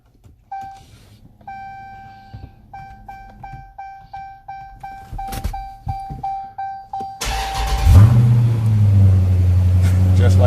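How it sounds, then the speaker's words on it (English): A Mopar push-button start vehicle sounds a series of repeated electronic chimes as a PIN code is entered, then its engine cranks and fires into a loud, steady idle rumble. "enter my PIN code, and start this car"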